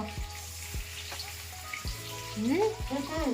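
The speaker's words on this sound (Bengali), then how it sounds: "তেল গরম হয়ে গেছে, এবার বসিয়ে দিলাম। এগুলো ভেজে নিই।" Food pieces fry in hot oil with a soft, continuous sizzle, joined by a few light knocks and voices talking nearby in a home kitchen.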